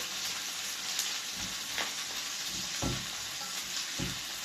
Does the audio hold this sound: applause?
no